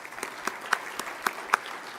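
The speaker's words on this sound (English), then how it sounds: "Let's give John a round of applause" A brief spell of light, scattered clapping from a small group, a handful of sharp claps standing out over a soft patter.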